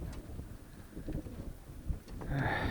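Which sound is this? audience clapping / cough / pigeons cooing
pigeons cooing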